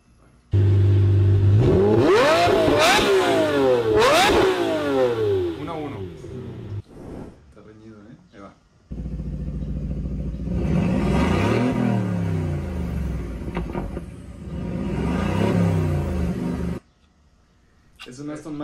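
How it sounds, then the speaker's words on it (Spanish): An Aston Martin Vanquish engine revs hard in loud, rising and falling bursts, roaring near and dominant, then a second run of revs and sustained roar after a brief drop. "Aston Martin Vanquish"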